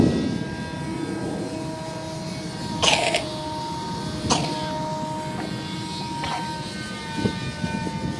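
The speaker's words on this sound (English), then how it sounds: "The airplane can only fly for 15 minutes." A Sky Surfer v5 RC model airplane flies overhead, a faint steady motor whine running throughout over outdoor background noise, with a few brief knocks and sounds in between.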